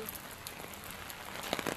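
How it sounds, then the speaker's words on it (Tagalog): Rain falls outside St Joseph Church in Tseung Kwan O, Hong Kong, as a faint, steady patter with a few slightly sharper drops near the end. "And as you can see, umuulan."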